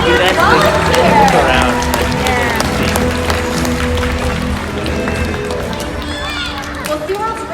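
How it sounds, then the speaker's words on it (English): An audience at the SeaWorld Orlando orca show applauds and cheers in a steady, continuous wash of clapping while an announcer's amplified voice talks over it. "how about a round of applause for Trua, Makayo, and our audience volunteers?"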